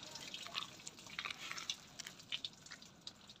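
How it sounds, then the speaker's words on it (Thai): Water from a hose poured over mushroom cultivation blocks, a faint steady trickle and drip running down the slanted stack, with soft splashes and no talk. "นี่ครับเทจากด้านบนครับมันจะไหลลงไปด้านล่างครับ"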